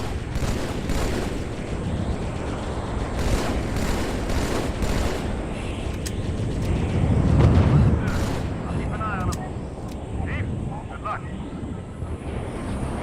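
Hostile ground fire in Halo 2 on the Outskirts level, with scattered gunshots and blasts buried in a dense, continuous rumble of combat noise and engine-like drone that swells midway; a voice talks over it.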